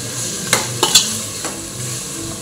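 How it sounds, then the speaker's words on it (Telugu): Marinated chicken stirred into hot oil, a steady close sizzle with a few spoon scrapes and clinks against the pan, no voices. "ఆ చికెన్ని మొత్తం ఇట్లా మిక్స్ చేసుకోవాలి"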